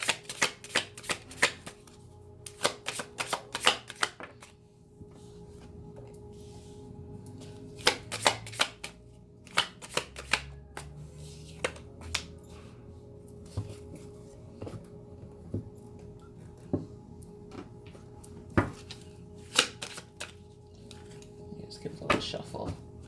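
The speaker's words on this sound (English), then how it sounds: "Give it a little shuffle." A deck of tarot cards is shuffled by hand in quick, crisp riffling bursts with short pauses between them. The cards are close, and faint talk sits in the background.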